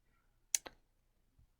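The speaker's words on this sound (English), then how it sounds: "I'm going to go over to my keyboard and hit 4, and then hit answer." Two quick computer keyboard key presses, close and crisp in a quiet room, followed moments later by a faint soft tap.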